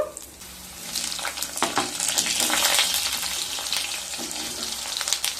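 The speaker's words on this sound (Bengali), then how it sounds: "তেলের মধ্যে দুটো শুকনো লঙ্কা দিয়ে দেব আর দিয়ে দেব হাফ চামচ কালো জিরে একটু নেড়ে নেব" Dried red chillies and half a spoon of nigella seeds crackle and sizzle in hot oil while being stirred in a pan, a steady close frying hiss with light scraping clicks.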